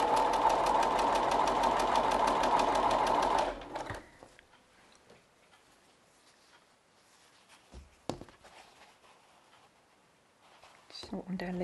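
Sewing machine stitching a row of small fabric charm-pack pieces for an octagon table runner, a dense continuous mechanical whir for several seconds that stops abruptly, followed by quiet handling noises.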